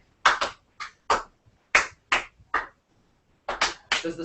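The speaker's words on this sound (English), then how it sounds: "Does the slow clap ever speed up?" Slow, spaced hand claps as a group claps for Jim Barr walking through the door, a dozen or so sharp claps in an uneven rhythm with short gaps between them.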